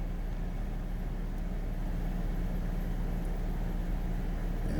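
An Infiniti G37 engine idles steadily at close range, a constant low hum and rumble with no talking over it.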